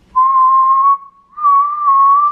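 A child whistles a steady sustained tone, close and clear, in two long held breaths with a short gap between them, no talking over it.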